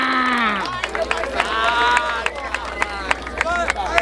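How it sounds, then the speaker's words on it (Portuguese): Crowd at a rap battle event in Barueri, São Paulo, with scattered claps and cheers rising under a loud announcer hyping the audience, sharp hand claps popping through the shouting. "Palmas pra essa batalha!"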